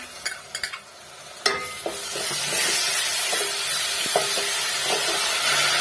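A few sharp metal clicks of a spoon, then a loud, steady sizzle and hiss as finely ground tomato gravy is stirred into a hot pan of dal.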